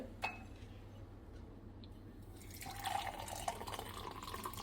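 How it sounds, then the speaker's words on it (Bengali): Almond nut milk trickles through a household sieve, a faint liquid pouring and dripping that grows fuller after a quiet start, with an occasional light clink. "এটাকে এবার একটু ছাকনি দিয়ে ছেঁকে নেব"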